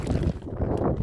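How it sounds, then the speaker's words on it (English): Steady wind buffeting a microphone on a deserted beach in Maine, a low rumbling roar that dips briefly and then returns, heard alone without any voices. "it is a tad bit windy"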